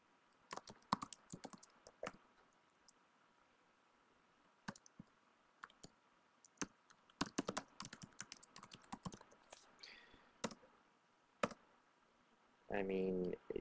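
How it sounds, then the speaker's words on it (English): Computer keyboard typing in a Google Docs document, irregular bursts of close, crisp keystrokes with short pauses, ending in a quick flurry of rapid clicks. "you can start typing"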